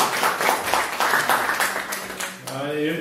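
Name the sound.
audience applause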